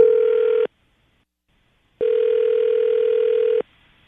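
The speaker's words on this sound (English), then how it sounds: "The hardest part of these is me dialing phone numbers." A telephone dial tone on a radio-show call line, a steady tone that sounds for about half a second, drops to silence, then returns for another second and a half, loud and clear with no talk over it.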